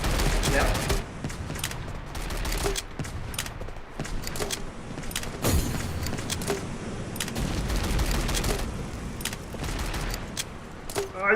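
A gun turret firing in the video game Free Fire MAX: repeated sharp shots in irregular bursts over a steady background din, with voices talking in places.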